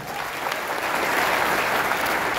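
Loud, sustained applause from a large crowd at a stage event, a dense, even wall of clapping that fills the whole stretch without a break.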